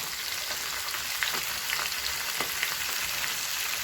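Fish pieces frying in hot oil in a home kitchen, a steady dense sizzle and crackle throughout with a few louder pops, close and continuous, no talking.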